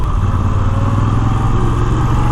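Moto Guzzi V7 Stone motorcycle engine under way, a loud, steady low rumble heard up close without a break, with the engine note shifting slightly as the rider changes gear.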